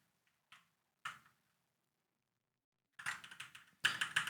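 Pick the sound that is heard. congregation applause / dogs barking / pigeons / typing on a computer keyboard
typing on a computer keyboard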